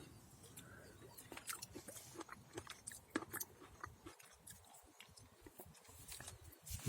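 A crunchy peach of the Ice Peach variety is chewed close up, giving a string of crisp, irregular bites and crunches with quiet gaps between, fairly faint, and no speech.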